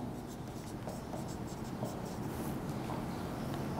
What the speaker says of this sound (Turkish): Tabii kitap örneği yazıyorum